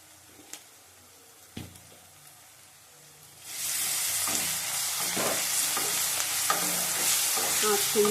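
Ginger paste and garlic paste hit a hot pan and break into a loud, steady sizzle after a few seconds of quiet with faint clicks and taps, the frying continuing with occasional stirring scrapes.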